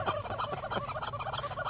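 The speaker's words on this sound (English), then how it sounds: "Horsing around with a rubber chicken." A rubber chicken is squeezed repeatedly, giving a rapid series of loud, honking squawks in a gobbling rhythm that runs for the whole short stretch.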